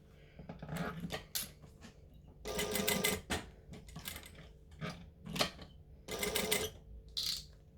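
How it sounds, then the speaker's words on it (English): A sewing machine doing top stitching, running in several short bursts of rapid needle clatter separated by brief pauses and small clicks, fairly close but quiet. "I'm just going to come and top stitch along there."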